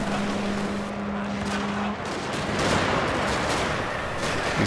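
Massed musket volleys crackle from a firing line in the Fall of the Samurai strategy battle game, a dense continuous rattle of gunfire with a brief steady tone early on, no voices.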